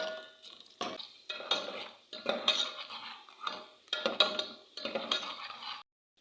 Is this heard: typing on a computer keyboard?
no